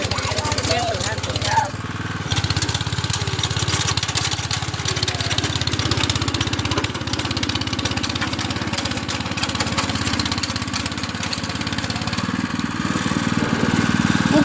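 A tractor engine runs steadily in a farm field, a continuous mid-pitched drone close by with a slight shift in tone early on, while people talk over it.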